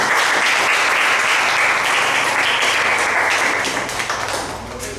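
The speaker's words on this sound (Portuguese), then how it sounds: "Uma salva de palmas para o Senhor Jesus" Church congregation applauding at an evening service, a dense, steady wash of many hands clapping that stays loud throughout and eases slightly near the end, with no talking over it.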